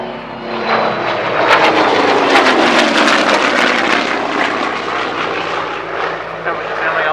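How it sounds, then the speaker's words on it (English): A World War II Corsair propeller aircraft flying aerobatics at an air display drones loudly with a rising and falling engine roar as it passes overhead, while a commentator talks over it. "Corsair really came into its own at the back end of World War II."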